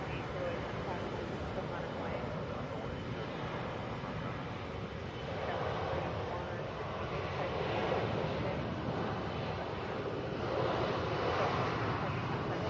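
An Airbus A321 airliner at Atlanta airport gives off a steady, broad jet roar mixed with gusting wind across the microphone, holding level throughout and swelling slightly toward the end.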